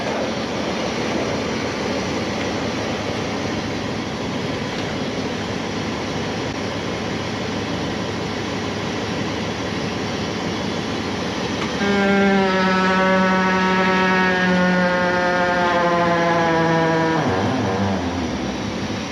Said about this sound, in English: one running the jacks on the inside of the vehicle and the other one underneath